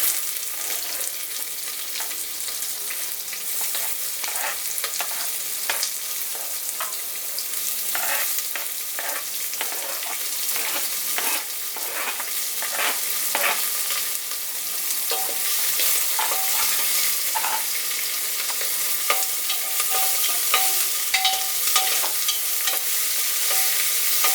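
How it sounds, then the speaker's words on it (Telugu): Chopped onions and green chillies fry in hot oil with curry leaves and dried red chillies, giving a bright, steady sizzle broken by frequent scraping stirs of a spatula against the pan, close and loud, with no talking. "ఇప్పుడు ఉల్లిపాయలు పచ్చిమిరపకాయ ముక్కలు వేసుకోవాలి"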